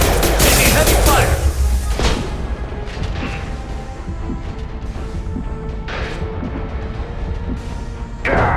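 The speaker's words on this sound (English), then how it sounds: "Taking heavy fire!" A loud barrage of gunfire and booms opens a battle in the PC game Mass Effect 2 Legendary Edition, then eases into scattered, quieter shots and impacts under a steady combat din.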